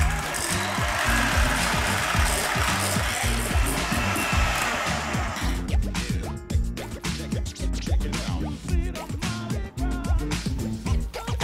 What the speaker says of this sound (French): Montez les blancs en neige en y ajoutant une pincée de sel